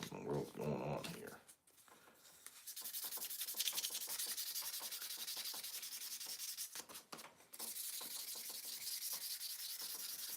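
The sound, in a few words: sanding a pipe by hand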